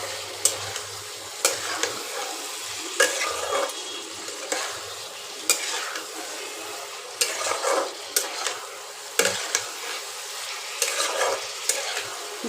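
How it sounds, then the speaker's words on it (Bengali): Boiled figs and potatoes sautéed together in a pan for a Bengali fig curry, a steady close sizzle broken by repeated scraping stirs of a spoon against the pan, with no talking. "এবার সেদ্ধ করা এটা ডুমুর আর আলু দিয়ে দেবো, এবার একসাথে কষাবো।"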